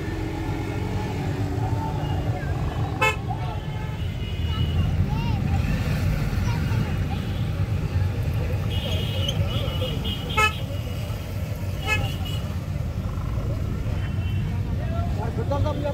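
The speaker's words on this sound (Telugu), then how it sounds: "చూస్తున్నారు కదా చాలా హెవీ ట్రాఫిక్ ఉంది" Heavy, jammed traffic near Hussain Sagar during a Ganesh immersion, with a constant low engine rumble and repeated car horn toots scattered throughout, close and loud, while a person talks over it.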